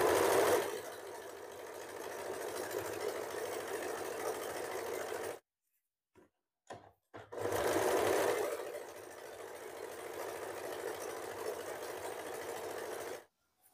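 A sewing machine stitches a blouse lining in two long, even runs separated by a brief pause with a few small stops, humming steadily and close by.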